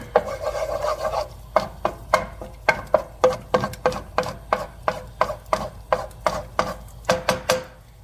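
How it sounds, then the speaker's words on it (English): An egg is beaten for fried rice in rapid, regular clacking strokes of a utensil against a bowl, close and crisp, after a brief softer scraping at the start. "Scramble the egg a little bit."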